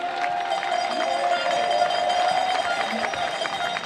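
Steady roar of a large crowd cheering at a BMX freestyle park World Cup semi-final at FISE Montpellier, continuous and fairly loud, with a faint voice beneath.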